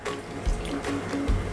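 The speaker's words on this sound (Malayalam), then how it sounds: "വെള്ളം ഒഴിച്ച്," Water is poured steadily into a bowl of wheat dosa batter mixed with vegetables, making a close, continuous splashing trickle with no voices.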